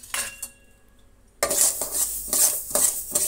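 Mustard seeds, a glassful, are poured into a pan for dry roasting: a short metallic clink, a pause, then a dense rattling rush of seeds hitting the hot pan with bursts of stirring.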